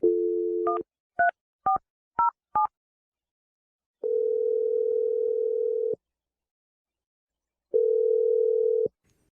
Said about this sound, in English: I'm going to dial the number right now.